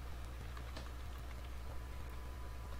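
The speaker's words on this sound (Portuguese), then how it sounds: "Então vamos digitar um nome" Computer keyboard typing while entering a name into a running C++ program, heard as quick, light, irregular key clicks over a steady low hum, faint and close.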